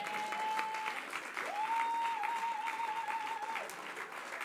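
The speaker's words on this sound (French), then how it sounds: "Et on peut l'applaudir." Audience applauding at a live French stage show, a steady wash of clapping throughout, with a sustained whistle-like tone running through it.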